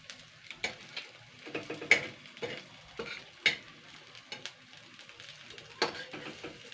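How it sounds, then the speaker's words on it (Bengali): Potato and egg fritters (bora) frying in oil, a quiet crackling sizzle broken by sharp scraping clicks of stirring and turning the pieces, with no talk over it. "তো এরকম লাল লাল করে ভেজে নেবো যে কটা আছে"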